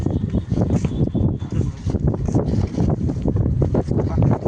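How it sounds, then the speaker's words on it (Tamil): Strong wind on a fourth floor roaring and buffeting the microphone in continuous gusts, a loud low rumble throughout with no clear speech. "4th ஃப்ளோர்னால காற்று ஓவர் அடியுது."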